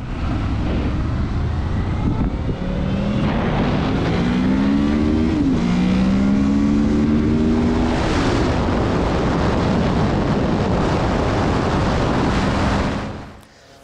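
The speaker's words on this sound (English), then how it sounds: "But when that VTEC opens up and you hear what that engine can sound" A sixth-generation Honda VFR800 Interceptor motorcycle with VTEC revs hard and close, its engine note climbing and sweeping in pitch with a loud, continuous roar before cutting off abruptly at the end.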